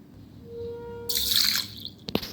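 Soaked lentils and rice being rinsed by hand in water, with a splashy burst of pouring and sloshing in the middle, then a couple of sharp drips and knocks at the end, close and moderately loud.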